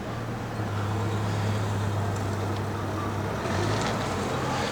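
A 1967 Chevrolet Malibu with a 3.5-inch dual exhaust idles nearby, giving a steady, deep, even rumble that holds for the whole stretch with no talking over it.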